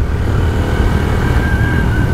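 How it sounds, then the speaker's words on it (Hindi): A motorbike rides along a track with small hills, its engine droning steadily and loud up close with rushing wind, no talk over it. "इधर से मुझे बाइक चलाने का बड़ा मजा आता है"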